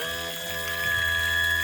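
Water running through the flush attachment on a Mercury 60 hp outboard motor on a bass boat that sat for ten years, a steady rushing hiss with a faint tonal hum, continuous and close.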